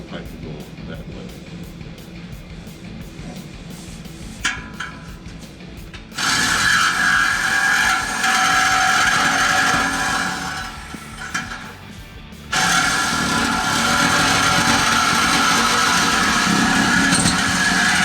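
A power tool cuts through the tailpipe of a 2019-2022 Silverado or Sierra 1500 5.3L exhaust system, a loud, steady grinding whine in two long bursts separated by a brief pause, with talk before the first cut.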